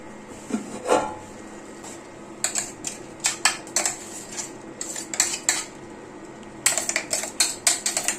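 A utensil clinks and scrapes against a pot as crushed coconut is stirred into aviyal vegetables, with irregular clusters of sharp metallic taps separated by brief pauses.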